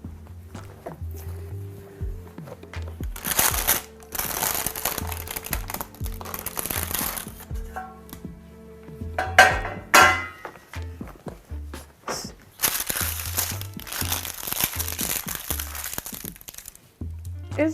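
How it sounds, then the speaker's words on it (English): A baked black pepper strawberry galette is lifted off parchment paper, which crinkles and crackles in loud bursts set apart by short quiet gaps, with a few soft knocks near at hand. "So I am going to take this out of the parchment paper."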